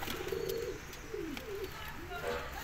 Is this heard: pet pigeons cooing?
yes